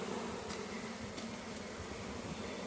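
Bees from a colony living in a backyard tree drone in a steady, continuous buzz that fills the whole stretch, close and even in level with no pauses and nobody talking.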